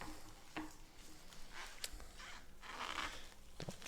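Packaging of a tarot card deck being unboxed at close range: scattered crinkles, scrapes and sharp tearing or zipper-like rips over a quiet room, with no talking.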